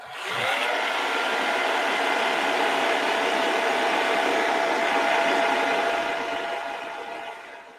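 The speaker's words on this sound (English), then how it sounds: "Let's hit this with a hairdryer." A hair dryer blows water off a wet box, a steady whirring roar that holds for about seven seconds before tapering slightly, with no talking.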